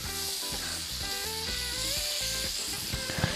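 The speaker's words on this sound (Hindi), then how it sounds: "ये देखें, बहुत अच्छी तरीके से हम इसको भून लेंगे।" Kofta kebab masala sauce being fried and stirred in a pan, a steady dense sizzle and hiss running throughout with clinking utensil taps and faint background music.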